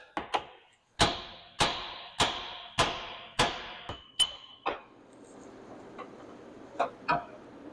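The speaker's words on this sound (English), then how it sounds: "Now we got to knock that loose." A series of sharp metallic knocks, about eight evenly spaced hammer blows ringing briefly, followed by a few lighter scattered taps, as a stuck part is knocked loose on a vehicle axle during a differential gear installation.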